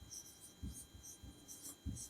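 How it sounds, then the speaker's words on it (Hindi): Chalk or marker scratches across a board during a Hindi music lesson in short scraping strokes repeated every half-second or so. The strokes are faint and close, and no one speaks over them. "यानी कि लिखेंगे राधा"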